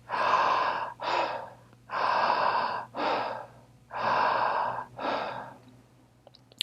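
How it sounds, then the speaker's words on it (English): A person does a breathing exercise, alternating long drawn inhales with short exhales in three even cycles, close and audible with no talking. "Longer inhale and shorter exhales"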